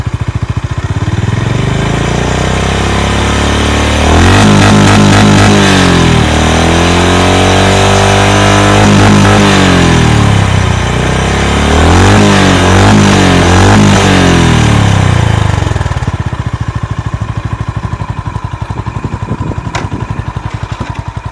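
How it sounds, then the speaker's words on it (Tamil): A Honda CB350 RS motorcycle idles close by, then its exhaust is revved repeatedly in several rising and falling bursts before settling back to a loud steady idle, with no talking. "இப்போ எக்ஸாஸ்ட் நோட் கேட்டுருவோம்."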